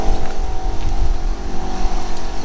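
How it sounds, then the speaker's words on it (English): An air compressor runs with a loud, steady, buzzing motor drone at a mobile car-valeting job, holding an even level throughout. "I hope the compressor's going to fire up"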